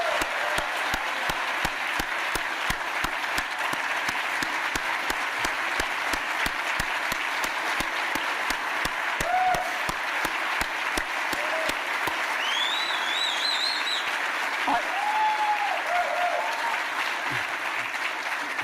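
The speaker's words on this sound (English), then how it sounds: "Let's have a big round of applause for every Metro first responder." Steady, dense audience applause fills a hall during a city mayor's State of the City address honoring Metro first responders, holding level throughout with a few whoops and whistles rising above the clapping.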